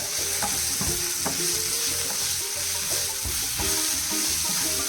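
Coriander powder and spices fry in a pan while being stirred, a continuous close sizzle broken by repeated scraping knocks of the spoon against the pan, no voices.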